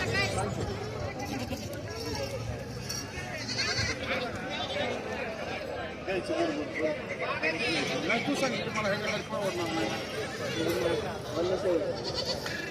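Goats bleat now and then amid a busy crowd at the weekly livestock market in Bhigwan, their calls mixed with nearby chatter and general market hubbub.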